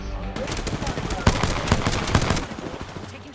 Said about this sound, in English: Taking shots. Taking fire.